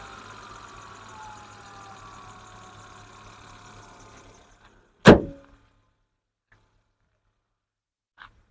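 A 2011 Hyundai Santro Xing petrol/LPG car engine idles steadily for about four seconds, then cuts off, followed by a single loud thud like a door or hood shutting and a faint click near the end.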